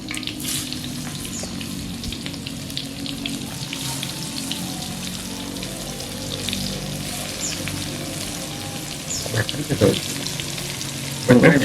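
Tempeh frying in oil in a pan, a steady close crackling sizzle with light bubbling that runs throughout, joined by a few sharper spatters and stirring knocks near the end.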